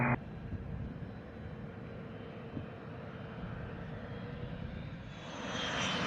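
A private jet landing at Scottsdale Executive on runway 21 gives a steady engine roar that swells slightly near the end, heard from moderate distance after a brief tone at the start.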